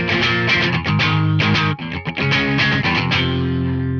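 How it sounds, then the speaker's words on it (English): Electric guitar through a distortion pedal plays a rhythmic riff with chugging chords and a brief pause midway, loud and close. "Now we can just add a little bit of distortion to this and hear how the intro sounds"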